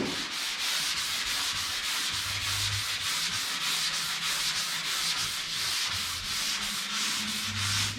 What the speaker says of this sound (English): I think I need to change this sandpaper. It's starting to wear out on me.